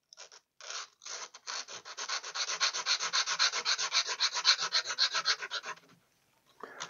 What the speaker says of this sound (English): I use a big sheet of sanding paper